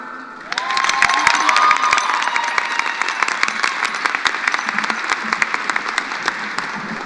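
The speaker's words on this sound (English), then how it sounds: "Let's welcome him with a round of applause." Graduation crowd at Mountain View High School bursting into loud applause and cheers for the principal, dense clapping with shouts and whoops, a few sharp close claps standing out, sustained to the end.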